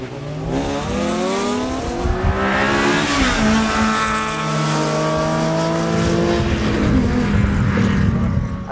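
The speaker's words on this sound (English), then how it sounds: "I have never drag raced this car before" A street car launches in a drag race, the engine revving and pulling hard through rising gears, loud and close with a rough, buzzing tone over the full stretch.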